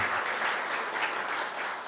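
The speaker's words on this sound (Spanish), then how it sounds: "Fuerte el aplauso para ese grande doloreño." Steady applause from a crowd, dense clapping sustained throughout, fairly loud and close with no voices over it.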